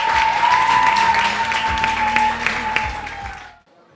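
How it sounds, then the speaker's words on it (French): Loud, dense applause from a studio audience at the grand final of a summer singing contest, steady and full for over three seconds before quickly dying away. A faint steady tone runs underneath. "je vous demande de l'applaudir très fort"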